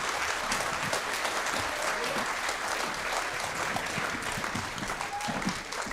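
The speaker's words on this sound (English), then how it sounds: "a round of applause for our team here" Audience applause at a tribal community hui, a sustained round of clapping from a large crowd, steady and dense throughout with faint voices mixed in.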